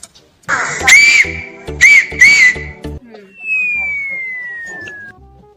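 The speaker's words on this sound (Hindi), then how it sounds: "क्यों सीटी बजा होता है, भोंगाड़ा बजा होता है।" In an Awadhi comedy sketch, a whistle is blown in three loud bursts under overlapping shouting voices, followed by a single long, falling siren-like tone that fades out.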